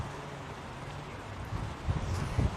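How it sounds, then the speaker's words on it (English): Strong wind buffeting an outdoor microphone on a very windy day in Richmond, a low rumbling roar that swells and gusts louder toward the end, with no voices. "you could probably tell it's an extremely windy day in Richmond"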